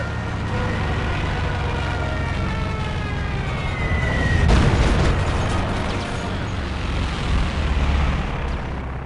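Stuka dive bomber explosions in the World War II strategy game Company of Heroes 2: a dense, continuous rumble of blasts, with a heavy, close boom near the middle and more bursts rolling in after.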